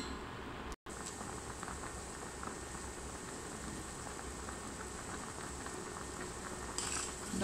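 Red lentil dal with raw mango, mustard oil, spices and salt bubbling in a pot, a steady soft patter of boiling with no voices, continuous and fairly quiet throughout.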